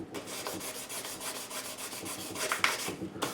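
Steady, rapid rubbing of fine 2000 grit sandpaper polishing the frets of a 2005 Gibson Les Paul Limited Edition, close and even, with quick back-and-forth strokes and no talking.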